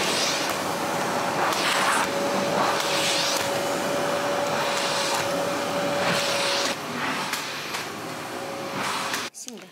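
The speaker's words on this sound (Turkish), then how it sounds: "Şimdi öncelikle kendi normal evimde kullandığım süpürgemle halının bir kısmını süpürüyorum." A household vacuum cleaner runs steadily over a carpet, its loud continuous whine and airy roar close by with a faint tonal hum, shifting as it moves before cutting off at the end.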